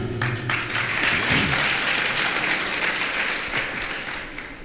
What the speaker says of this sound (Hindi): एक बार देवियों के लिए जोरदार तालियां।